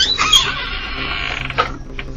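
A door being forced open by a large man, heard as a drawn-out creak with a few brief higher squeaks, fairly close and moderately loud.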